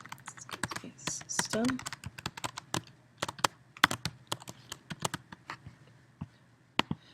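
Code typed on a computer keyboard: irregular bursts of sharp close key clicks with pauses between, and someone briefly speaking over the early taps.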